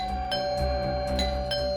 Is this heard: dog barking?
no